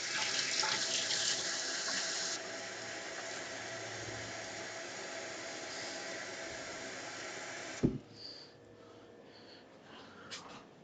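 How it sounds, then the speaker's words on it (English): Cold water runs steadily from a kitchen tap into a bowl for about eight seconds, a soft continuous splashing that stops abruptly with a knock, followed by faint handling sounds. "we're going to put these shrimp in a bowl with some cold water"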